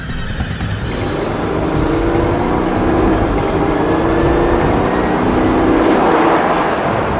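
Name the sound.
Bugatti Veyron Grand Sport car driving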